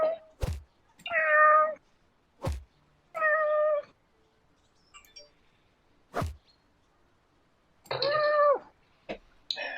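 A cat meows three times in long, drawn-out wails, alternating with sharp thuds and knocks in an otherwise quiet indoor space.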